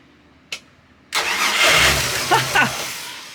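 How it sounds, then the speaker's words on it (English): A hot start of one of the twin big-block engines on an old yacht: a click, then the engine cranks and catches, settling into a rough idle with a couple of throttle blips, close and fairly loud. "Let's try a hot start."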